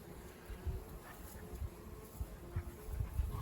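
Faint, soft buzzing of several bees moving among bramble flowers close by, with brief low hums rising and falling over a quiet outdoor background.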